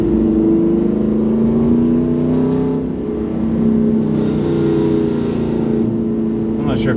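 A 2021 Ford Ranger Raptor engine drones loudly while driving in a low gear, a sustained deep growl rising and easing slightly, close and continuous, with a brief voice near the end.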